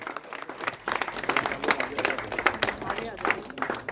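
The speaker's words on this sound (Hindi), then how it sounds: "जोरदार तालियां राजेश नोगाई जी के लिए" Moderate applause from a crowd at a gathering about a Garhwali film as cast members are introduced, irregular clapping that swells and ebbs, with voices mixed in.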